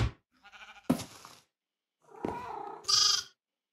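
A cat in the video game Minecraft meows in a few short, close, distinct calls separated by brief silences, with no talk over them.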